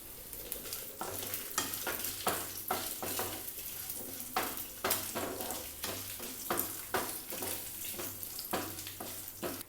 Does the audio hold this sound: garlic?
yes